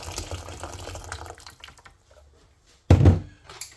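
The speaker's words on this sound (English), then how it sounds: "A litre of water straight from the kettle." A litre of hot water pours from a kettle in a short, loud gush near the end, after quieter kitchen clatter and handling sounds.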